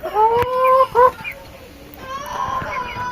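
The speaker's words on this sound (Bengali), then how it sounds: "আছে ফার্মের মুরগি ব্রয়লার এবং সোনালি মুরগি" Broiler and Sonali chickens on a small farm cluck and call up close in a few short bursts, with a brief pause between them and a faint farmyard background.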